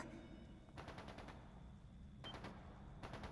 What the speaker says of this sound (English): It's gunfire.